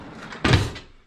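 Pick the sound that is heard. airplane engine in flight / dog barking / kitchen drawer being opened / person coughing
kitchen drawer being opened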